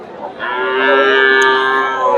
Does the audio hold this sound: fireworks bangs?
no